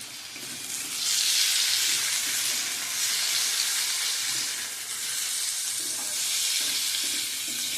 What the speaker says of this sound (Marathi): मस्त परतून घ्यायचे